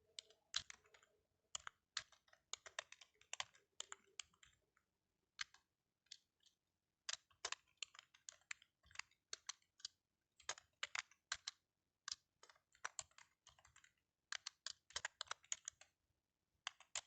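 Names being typed on a computer keyboard, with bursts of quick, light key clicks separated by short pauses, close and clear in a quiet room.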